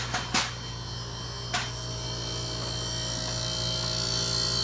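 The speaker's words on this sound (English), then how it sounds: "So the compressor is working." A refrigeration compressor runs with a steady low electrical hum and drone, nearby and constant, broken early on by two brief sharp clicks.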